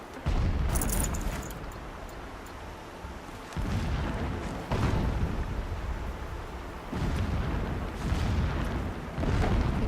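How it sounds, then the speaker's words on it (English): Deep booming rumbles from distant explosions in the video game Horizon Zero Dawn roll in several long swells over about ten seconds, loud and broad like thunder or artillery, with no talk. "Explosions in the distance."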